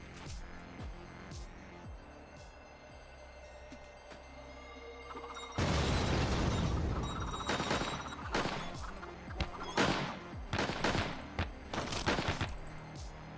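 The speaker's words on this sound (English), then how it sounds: "I threw a bomb" A thrown bomb explodes in the game Tonight We Riot, a sudden loud blast followed by several rough crashing bursts, after a quieter stretch of game music and sparse clicks.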